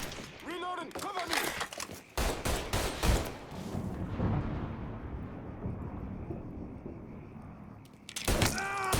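Gunfire in the video game Mafia 3, with loud booming shots and crashing impacts trailing into a long rumbling decay, and shouted voices near the start and end.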